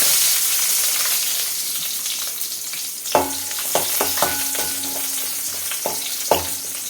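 Shallots fry in a hot pan while cooking urad dal chutney, giving a steady broad sizzle; from about three seconds in, several sharp utensil knocks and scrapes of stirring break through the hiss, with no voices.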